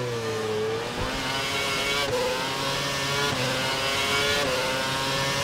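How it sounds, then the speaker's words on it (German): An F1 2011 race car screams at full revs in the video game at the Singapore Grand Prix, a loud, high whining engine with brief dips at each gear shift, sustained throughout with no voices. "dein Hintermann fährt jetzt mit voller Drehzahl"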